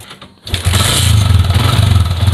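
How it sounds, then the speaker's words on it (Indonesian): A Jupiter MX motorcycle engine catches and settles into a steady, rhythmic idle, close and fairly loud. "suaranya sepi seperti motor baru lagi"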